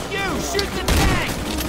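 Gunfire aimed at the Tank in Left 4 Dead 2, a dense burst of shots with a heavy blast near the middle, mixed with game noise and voices.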